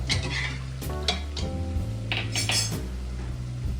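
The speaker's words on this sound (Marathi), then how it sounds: "कुकरमध्ये जो शिजवलेला अळणी रस्सा आहे ना तो आपण याच्यामध्ये टाकतो." Cooked mutton broth for Kolhapuri tambda rassa is poured into a hot pan and stirred, giving a loud sizzle with repeated scraping and clinking of a metal spoon against the pan, close up.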